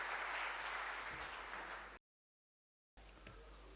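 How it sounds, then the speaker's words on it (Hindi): An audience at an annual ceremony of the Om Shanti Retreat Centre in Gurgaon applauds to welcome a guest, with dense steady clapping that drops out completely for about a second before resuming more quietly. "हम तालियों के माध्यम से आपका स्वागत करते हैं।"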